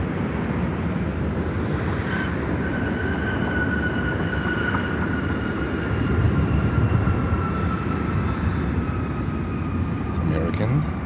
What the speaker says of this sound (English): 787-8 Dreamliner